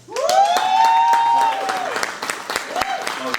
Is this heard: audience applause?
yes